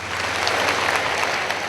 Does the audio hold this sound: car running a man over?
no